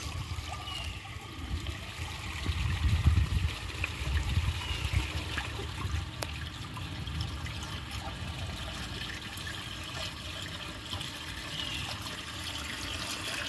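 Eljer Windsor Lowboy toilet flushing with its tank nearly full, a steady watery rush and trickle that swells for a few seconds and then settles into a continuous running flow.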